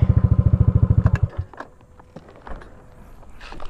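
A motorcycle idles with a rapid, close, throbbing pulse while being parked beside a newly built road. It cuts off after about a second and a half, leaving scattered clatter and footstep-like knocks.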